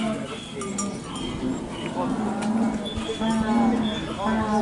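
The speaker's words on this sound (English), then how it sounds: "Chèvres, goats." Goats at a donkey fair in Lignières, France, bleat at moderate distance among a busy crowd, with a cowbell-like clank and the continuous murmur of people talking around them.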